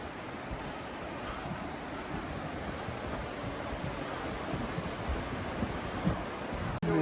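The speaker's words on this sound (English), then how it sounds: "Hear the river a lot better up here." A river rushes steadily below, heard from the second floor of an old train depot in the Thurmond, West Virginia ghost town: a continuous broad wash of water noise, fairly loud, with a brief knock near the end.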